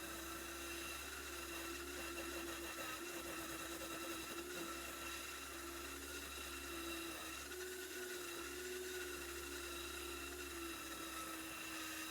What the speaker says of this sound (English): Back in with the roughing gouge again.